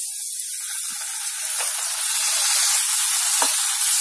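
Green beans and tomatoes sizzle steadily in a covered pan, a continuous close hiss with a couple of faint clinks and no talking.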